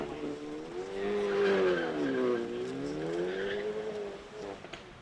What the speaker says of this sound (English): You see the front wheel drive wheel spin off the start line.